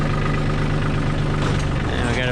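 Farm tractor engine idling with a steady low rumble, close and constant through the short stretch, with no talk over it.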